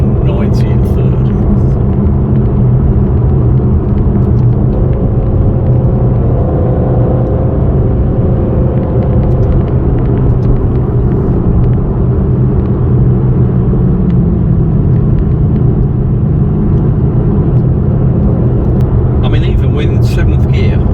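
An Aston Martin DBS Superleggera accelerates hard in third gear, a steady loud cabin engine roar with deep rumble and road noise throughout, people talking over it.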